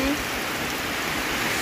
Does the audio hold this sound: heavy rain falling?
yes